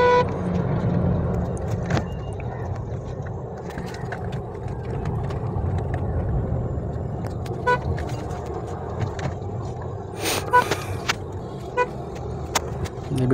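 Traffic on a busy city road with potholes, heard from inside a driving car: a steady engine and road rumble, with short horn toots and clicks scattered near and far, mostly toward the end.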